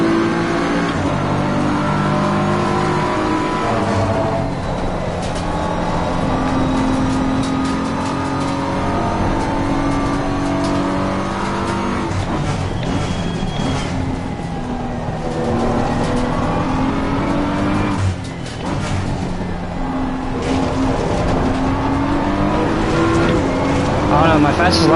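A BMW race car engine in a racing video game drones loudly and steadily, rising and falling in pitch through gear changes and revs, with a person talking over it.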